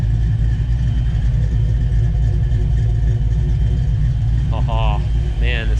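A rebuilt Mustang engine with an aggressive cam runs at a loping, rumbling idle, loud and steady, with a person talking briefly near the end.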